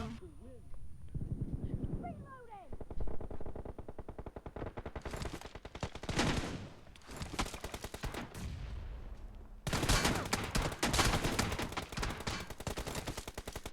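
Bursts of automatic gunfire in the mobile shooter game PUBG Mobile, rapid rattling volleys that run through most of the stretch, with someone talking over the game sounds at times.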